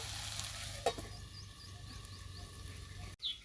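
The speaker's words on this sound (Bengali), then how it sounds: "খুব ভালো মতো করে সবজিটাকে আমি ভেজে নেব" Vegetables for rolls frying in a covered pan, giving a steady soft sizzle and hiss throughout, with a brief clink near the start and a lid or utensil knock near the end.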